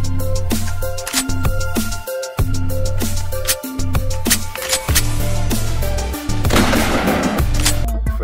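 Double-barrel shotgun shots ring out in a rapid string of sharp bangs with ringing tonal tails, an electronic toy-like weapon sound.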